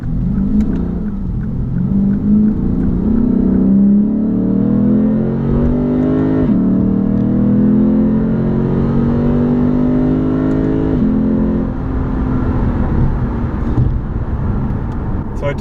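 A 2015 Lexus RC F engine revs above 4,000 RPM with a steady, loud rising drone under way, climbing in pitch, dropping briefly at a shift, then climbing again, heard continuously from inside the car.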